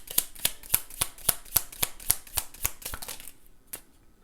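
A deck of tarot cards is shuffled in quick crisp riffling snaps, about a dozen sharp flicks in steady rhythm that thin out and stop near the end, close up and fairly quiet.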